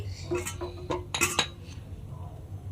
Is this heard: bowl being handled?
yes